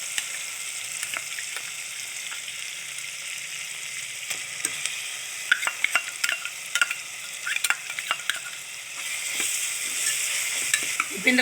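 Coriander paste stirred into fried onion and tomato in hot oil for little millet coriander rice, a steady close sizzle with scattered spatula scrapes and clicks throughout.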